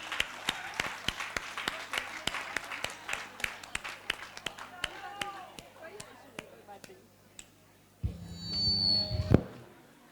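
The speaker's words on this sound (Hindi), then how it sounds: "जोरदार तालियां फ्रेंड्स, और जोर से।" Audience at a spiritual retreat night clapping in a steady rhythmic beat, loud and close with crowd murmur, then the clapping stops and a brief burst of other sound follows.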